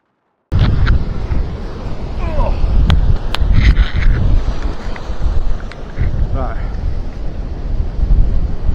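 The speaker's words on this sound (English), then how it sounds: "Definitely blowing a gale." Strong winter gale on the sea shore at Fleetwood at night during a fishing trip, loud continuous wind buffeting the microphone with rumbling gusts and faint clatter.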